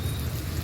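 Heavy rain pours down by a row of idol stalls where Ganesh idols are booked, a dense, steady hiss filling the brief moment without pause.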